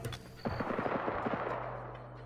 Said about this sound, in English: I wonder if Robertson would have heard those gunshots and comes up.